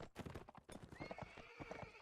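Horse hooves clip-clop in quick, uneven beats during a video game match, close and clear, with a short whinny mixed in.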